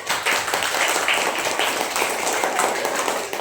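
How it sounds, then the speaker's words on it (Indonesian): Children in a primary school classroom clap in steady applause for a few seconds, a dense patter of many small hands with light voices mixed in. "Nah, boleh kasih tepuk tangan."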